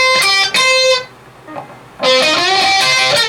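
Distorted electric guitar plays a lick from a song, two quick picked notes and then bent, sustained notes, a short quiet gap, and a loud held bend with vibrato, close and clear.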